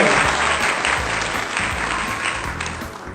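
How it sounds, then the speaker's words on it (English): Sustained applause from the audience at a family celebration honouring two baby granddaughters, steady and dense throughout with a faint murmur of voices underneath. "Can we give a round of applause, guys?"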